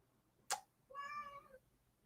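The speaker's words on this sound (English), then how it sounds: "my cat wants to go out." A cat meows once, clearly and close by, a drawn-out tonal call of about half a second, preceded by a short sharp knock and set against a quiet room.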